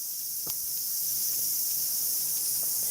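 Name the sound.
cicadas buzzing among trees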